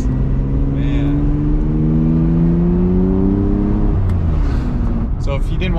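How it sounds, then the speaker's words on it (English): A Ferrari 575M manual V12 with a Tubi exhaust revs up steadily, its pitch climbing over several seconds before dropping back, a loud close-up mechanical roar with faint voices underneath. "It's got a Tubi exhaust, which is cool."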